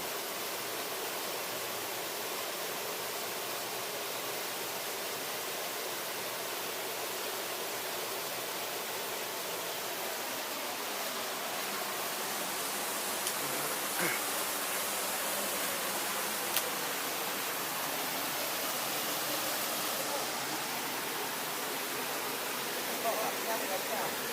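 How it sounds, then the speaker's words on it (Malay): A hidden waterfall in the Trumon forest produces a steady, dense roar of falling water, continuous and even throughout without breaks. "Ini kita udah dekat sama air terjunnya."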